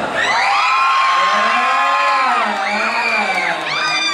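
A concert crowd in Chonburi, Thailand cheers and whoops loudly, many voices rising and falling in pitch together, with a fresh swell of shouts near the end.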